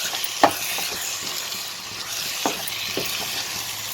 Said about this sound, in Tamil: ஒரு 2 நிமிஷத்துக்கு நல்லா ஃப்ரை பண்ணி எடுத்துடலாம்